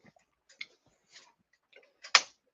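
A gas stove igniter that was left on clicks sharply and repeatedly in a quiet kitchen, several irregular ticks over a couple of seconds with the last one loudest.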